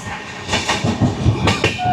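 A Shatabdi Express slows on its approach to a station, giving a steady rumble with rhythmic clicks of wheels over rail joints, heard from inside the moving train.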